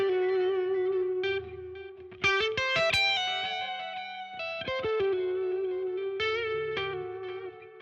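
Distorted electric guitar with effects plays a Dorian arpeggio lick, sustained notes and quick picked runs with reverb, moderately quiet and close, no voices.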